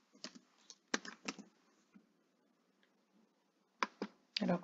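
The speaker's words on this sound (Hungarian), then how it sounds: "beillesztem Ctrl-V billentyűzet segítségével, ide be is írhatom, hogy közös padlet mondjuk." Typing on a computer keyboard during a software tutorial, with bursts of quick clicky keystrokes separated by pauses, close and moderately loud.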